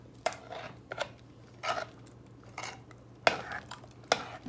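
A spoon stirs thick homemade German chocolate cake icing with coconut and nuts, scraping and clinking against the bowl in several short, close strokes with quiet gaps between them.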